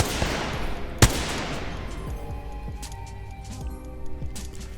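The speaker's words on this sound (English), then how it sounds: "So they're taking shots at each other" Gunfire in an Apex Legends match: dense, rattling bursts of shots with one sharp, loud crack early on, then lighter distant popping over steady game ambience.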